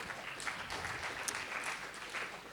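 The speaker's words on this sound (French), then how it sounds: "Mesdames et messieurs, je vous propose d'applaudir cette photo" An audience at a French-language meetup presentation applauds a photo on screen, giving a faint, distant, continuous patter of many hands with no talk over it.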